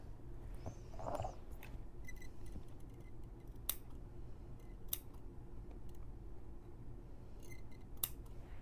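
Scissors make crisp, sharp snips through fabric while a sewn bag is being made, several scattered close cuts at irregular intervals over a quiet room hum.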